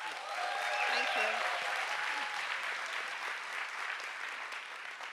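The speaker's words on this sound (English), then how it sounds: "Warm applause for Maryam" Audience applause at a Berlin science slam as a researcher is welcomed to the stage: steady, fairly soft clapping from a crowd in a hall, with a few voices murmuring underneath, holding level for several seconds.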